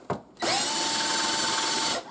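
A Lee Quick Trim power adapter in a drill trims a brass cartridge case, giving a short click followed by one steady high whirring spin of under two seconds that cuts off cleanly.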